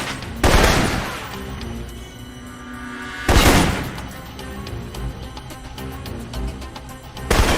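An assault rifle fires in Alpha Protocol, with three loud, booming bursts spaced a few seconds apart and mechanical game noise filling the gaps between them.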